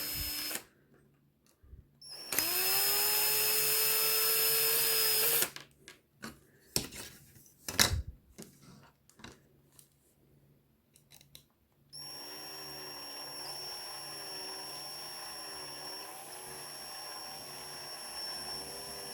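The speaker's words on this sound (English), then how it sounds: "Gently screw it first, and then I increase the speed just to get it out." A drill drives a threaded insert into a 3D-printed plastic part, starting in short gentle bursts and then spinning up to a loud, sustained whine with a brief clattering handling noise in between.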